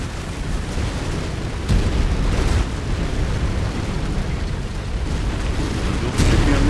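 A residential complex is destroyed in a video game, giving rumbling explosions and collapsing debris as a sustained roar with a few sharper bursts of heavier impact, loud and close.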